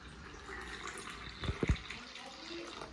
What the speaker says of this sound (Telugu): గ్లాస్ సగం వాటర్ వేసుకోవాలన్నమాట. సో నేను ఇప్పుడు కొలుచుకుంటున్నాను.